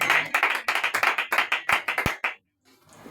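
Church congregation clapping in a quick steady rhythm, a dozen or so close, sharp claps that stop abruptly, followed by a near-silent pause and faint room noise.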